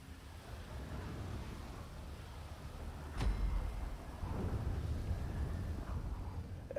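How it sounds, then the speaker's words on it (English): In GTA Online's Cayo Perico heist, rain patters under a low, rolling thunderstorm rumble, with a sharp crack partway through followed by heavier, sustained rumbling. "Now it's raining, but during rain and thunderstorm, the guards will also have a little smaller cone of vision."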